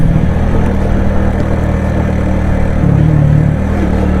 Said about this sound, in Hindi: खुद ब खुद बाइक भागती है, अब बगैर जोर लगाए खुद ब खुद दूसरे गियर में कोई 45 पर बाइक चली गई।